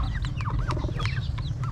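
Dong Tao dragon feet chickens cluck softly nearby, a string of short overlapping clucks and chirps over a low, steady background rumble.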